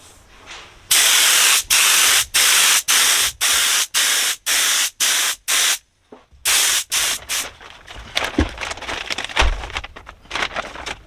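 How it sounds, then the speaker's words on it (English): Spray coat goes onto a Lotus Elise seat in about ten loud, evenly spaced hissing bursts, each roughly half a second long with short gaps, followed by a few rougher, uneven sprays and rustling handling noises. "Now I'm going to spray the second coat in the opposite direction."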